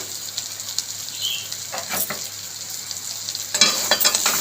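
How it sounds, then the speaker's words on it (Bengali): Eggplant, potato and shrimp frying together in a pan give off a soft, continuous sizzle, broken by a few scraping stirs and clatters of a spatula against the metal, close and alone. "মাঝে মাঝে আমি ঢাকাটা খুলে একটু নাড়িয়ে দিয়েছি নাড়লে তো নিচে লেগে যাবে"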